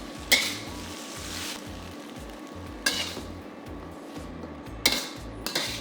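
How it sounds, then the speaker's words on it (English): Shrimp stir-fry noodles being tossed with sauce in a pot, with three sharp metal scrapes and clanks of a utensil against the pot over a steady low sizzle and a rhythmic thumping underneath. "add them into the pot. Toss to coat the noodles with the sauce."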